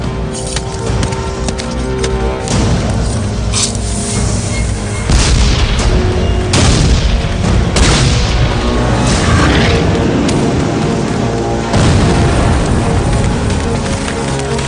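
A cannon fires a 12-pound solid iron cannonball, driven by an exploding bag of gunpowder at a Gettysburg battle, heard as repeated loud booms and blasts over a constant roaring, rain-like din.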